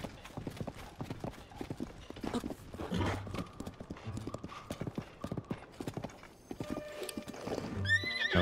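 In Zelda: Tears of the Kingdom, a horse gallops with a rapid, close, continuous clatter of hooves, and a short whinny rises near the end.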